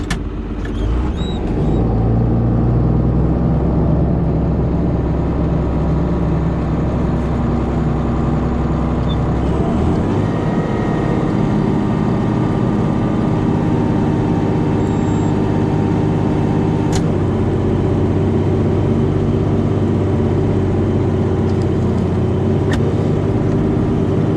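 A farm tractor engine drones loud and steady while chisel plowing a field and turning onto an auto-steer line, a constant low rumble that shifts slightly in pitch partway through.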